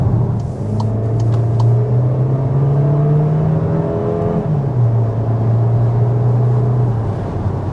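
A 2025 Volkswagen Taos all-wheel-drive SUV accelerates with a loud, steady engine drone that climbs in pitch, drops at a gear change partway through, then climbs again.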